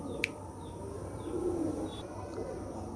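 Low, faint cooing from a Cobra Teddy pigeon, a female of a Pakistani Teddy breed, running steadily through quiet background noise with a single brief high click near the start.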